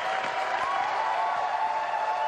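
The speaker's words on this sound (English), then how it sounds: "A perfect 300 game for Norm Duke in the semifinals sends this huge crowd in Tacoma into a frenzy." A huge bowling crowd in Tacoma erupts in sustained cheering and applause after a perfect 300 game in a semifinal, a dense, steady roar filling the whole moment.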